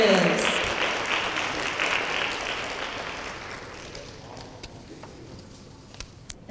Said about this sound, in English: Please give a round of applause for our state representatives.